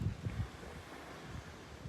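Wind gusts across a microphone while fishing for snapper from a boat, giving low rumbling buffets and a constant rushing noise, close and fairly strong, with no voices.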